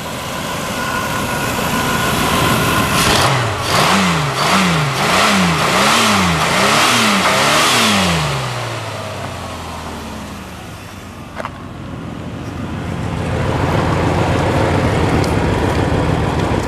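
An old, rusted Cadillac engine with 150,000 miles revs up and down in quick repeated bursts at close range, then settles back into a rough idle with a rattling undertone.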